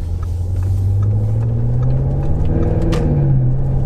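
Armytrix stage 2 tuned 700bhp Audi RS6 driving gently while still cold, its engine giving a deep, loud, steady rumble with a slowly rising drone, close up and without talk.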